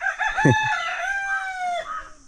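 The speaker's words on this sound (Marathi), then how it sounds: "कोणाचं तरी इकडे कोंबडा ओरडते, कुठे ओरडते बघा, खोपीवर जाऊन." A rooster crows once, a single loud, clear, drawn-out call from a perch atop a hut in a Konkan village, close by and alone.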